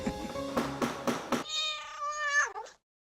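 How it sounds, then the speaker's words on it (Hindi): Indoors in a house, a cat gives a series of loud, close meows. Several short calls come in quick rhythm, then one long, drawn-out wavering meow ends abruptly before a brief silence. "लगता है घर में बिल्ली घुस आई है।"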